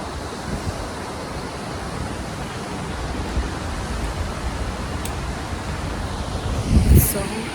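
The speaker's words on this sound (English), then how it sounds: "all you can hear is just the sound of the water" Water rushes steadily at a waterfall in Colorado, a dense, continuous roar close by with a brief louder swell near the end.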